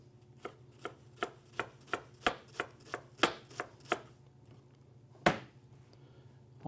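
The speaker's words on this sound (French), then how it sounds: "Alors, on les incise les plus fines possibles." A knife slices French shallots thinly on a cutting board, producing about a dozen crisp, evenly spaced chops, then a pause and one louder final cut, close and clear with no talk.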